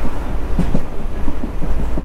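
A passenger train arriving at Ambasamudram railway station rumbles along with a continuous low roar and faint rhythmic clatter from the carriages, heard from inside without any talking.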